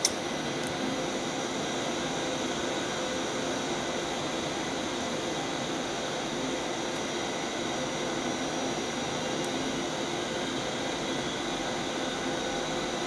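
A Boeing 737-800 jet engine spools up in the X-Plane 11 flight simulator, a steady broadband roaring whoosh with a high whine that holds at an even, loud level throughout, with no speech.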